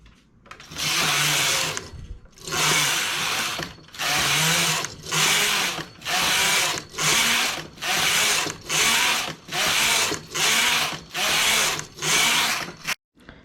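A knitting machine knitting plain stockinette fabric for a buttoned romper, the carriage swept back and forth in a dozen loud, evenly timed whooshing passes with brief pauses between strokes.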